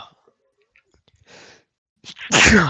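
A person sneezes loudly and close by after some quiet breathing and small mouth noises, in a casual indoor setting among friends recording a podcast.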